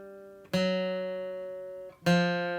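Two strummed acoustic guitar chords ring out one after another, each sustaining and fading before the next shift.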